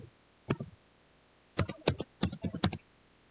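Typing on a computer keyboard in Windows 11: a short burst of clacks, a pause, then several quick clusters of keystrokes, close and fairly clear, with no talking.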